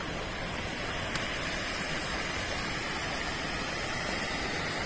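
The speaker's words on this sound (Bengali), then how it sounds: "চলার পথে দ্বিতীয় ঝর্ণা" A waterfall along the Annapurna Base Camp trek in Nepal, the second falls on the trail near Dovan, roars as a steady, dense rush of water throughout, with no voices.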